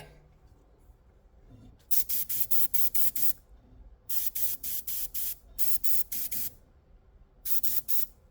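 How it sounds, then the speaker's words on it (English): Spray gun laying a coat of thinned paint in rapid repeated bursts, short sharp hissing pulses grouped in quick runs separated by pauses, close and fairly loud. "let's shoot another little coat on the"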